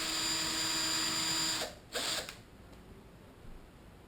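Power drill boring through an AR-15 part, a loud steady high whine for about a second and a half, then a few brief bursts before the motor fades to quiet.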